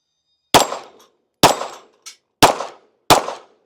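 Springfield Echelon pistol fired at 15 yards: four loud, sharp shots roughly a second apart, each with a short ringing decay, plus a faint metallic ping between the second and third.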